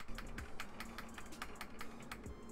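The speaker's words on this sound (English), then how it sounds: "Are you pressing, 3 on the keyboard?" Several quick, light clicks of keys being pressed on a computer keyboard, a sparse irregular tapping heard close up over low steady background noise, with no voices.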